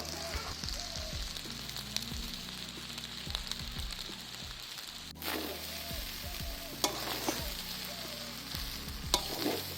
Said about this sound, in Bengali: এরপর ভাতগুলো কড়াইতে দিয়ে দেবো